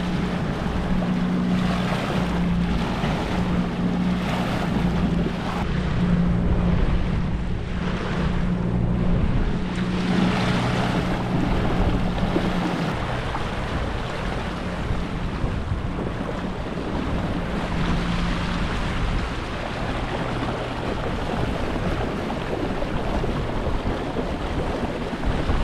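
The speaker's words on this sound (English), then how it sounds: "This boat's making not good noises." A small boat with an electric outboard motor runs across open water, a steady mechanical whine and hum under rushing wind noise and splashing wake, with a strained motor tone fading partway through.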